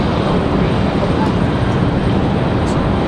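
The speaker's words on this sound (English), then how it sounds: "Delta in a 737 up for departure." A Delta Boeing 737 jet departing Raleigh-Durham airport produces a loud, steady broadband engine roar, close and continuous without breaks.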